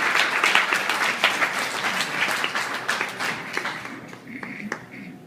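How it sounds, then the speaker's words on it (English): An audience applauds for Sarah Perez, a Barnes Jewish College of Nursing graduate, at an award event: sustained crowd clapping that gradually thins toward the end, with some voices mixed in. "let's give her a round of applause"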